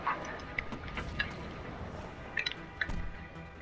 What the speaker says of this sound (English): I'm chewing on the thing, every time I chew on it, it gets stuck in my mouth, so it does this weird sound.